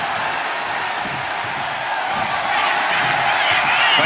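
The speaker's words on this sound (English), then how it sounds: "taking a moment to get pumped off of this crowd's incredible energy" An arena crowd at a WWE 2K25 wrestling match roars in a dense, continuous wash of cheering that swells slightly toward the end, with a commentator's voice faintly mixed in.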